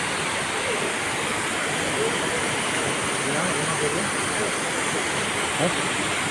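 An indoor waterfall in an airport terminal gives off a steady, loud rush of falling water that fills the space, with a voice talking faintly beneath it.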